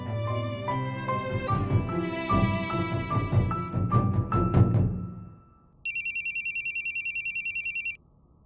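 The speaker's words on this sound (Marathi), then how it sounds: "मी कौशिकांना फोन करतो." A telephone rings in bursts of electronic trills during a tense family call about a broken-off wedding, starting after a stretch of swelling music and sounding loud and close with no talk over it.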